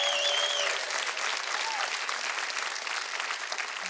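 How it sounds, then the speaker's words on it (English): Audience at a live comedy show applauding Army veterans, a full, steady round of crowd clapping with a few whoops and cheers rising over it. "Army, give the Army a round of applause."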